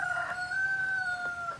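A chicken in a coop gives one drawn-out, tonal call lasting over a second, clear and fairly close.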